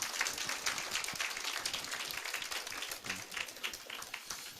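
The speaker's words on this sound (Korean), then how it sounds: "하나님께 영광의 박수 올리겠습니다." A church congregation claps at a Christmas Day Sunday service, a steady wash of many hands sustained at moderate level throughout without a clear break.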